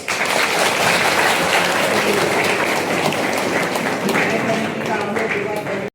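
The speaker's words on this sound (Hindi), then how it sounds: "एक बार फिर से इनके लिए जोरदार तालियां" A crowd at an Adiwasi student association gathering in Hazaribagh breaks into loud, vigorous applause, a dense wall of clapping that holds steady throughout before cutting off at the end.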